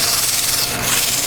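Olive wood being sanded, a close, loud, continuous abrasive rubbing hiss with a slight back-and-forth pulse, heard alone.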